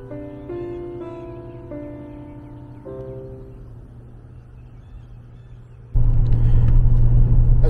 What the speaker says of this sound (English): As we're driving through rural Kentucky,